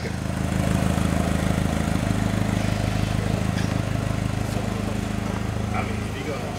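A forklift engine runs steadily with a low droning hum while the machine drives in donuts, loud and continuous with slight variations in pitch, and voices are faintly present underneath.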